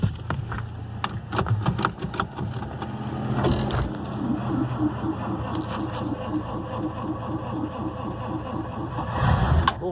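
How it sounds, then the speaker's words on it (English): A 1942 Pontiac two-door sedan turns over and runs after sitting for weeks: a rhythmic mechanical cranking pulse builds, then settles into a steady low engine rumble heard close by. "That's a starter right there."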